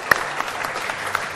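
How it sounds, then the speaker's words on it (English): A brief round of applause from an audience at an environment art presentation, dense clapping rising sharply at the start and continuing steadily at moderate loudness for just over a second. "Can we get a round of applause for Quinn?"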